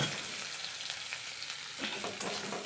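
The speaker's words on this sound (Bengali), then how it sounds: "পেঁয়াজটা লাল লাল করে ভাজা হইব" Onions frying in hot oil for a small-fish curry, a steady close hiss and sizzle throughout with light stirring ticks near the end, no talking.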